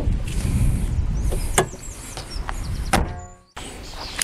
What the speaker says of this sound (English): Now let's close up a hood and let's have a peek in the small trunk.